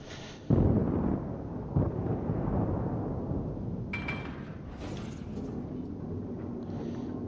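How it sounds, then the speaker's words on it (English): Heavy explosions from torpedo hits on an enemy warship in World of Warships, a Japanese Akatsuki destroyer battle: two sharp booms early, then a sustained loud rumble and crackle with brief high metallic tones, no talk. "if he doesn't, he's going to get hit with those torpedoes"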